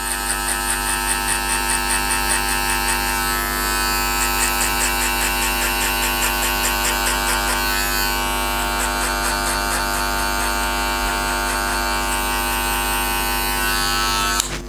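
Electric hair clipper running with its blade fully open while cutting a skin fade, a steady close buzzing drone with shifting tonal texture throughout, no talking.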